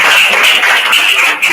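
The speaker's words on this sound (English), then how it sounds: "A huge round of applause" A crowd at a district-level school English elocution competition applauds the winning school with loud, dense, continuous clapping that fills the moment.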